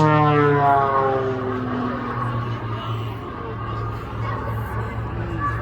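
Air Force display aircraft flying past at an Anzac Day airshow at West Sale Airport, Victoria, a loud, steady engine drone with a falling pitch as it passes, fading slightly, with a voice briefly heard.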